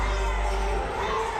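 A loud crowd in an arena during a men's college basketball game between Eastern Mennonite and Lynchburg, cheering and shouting in a dense continuous wash of voices.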